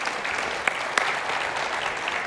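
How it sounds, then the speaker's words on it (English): A conference audience applauds two panel speakers with steady, dense clapping that fills the room evenly, with a couple of sharper claps standing out near the start. "Big round of applause for Babs and Honey"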